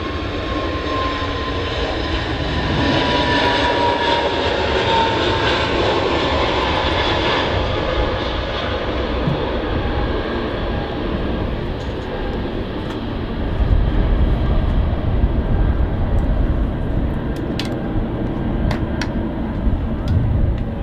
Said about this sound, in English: Eastern Airways ATR 72 coming in.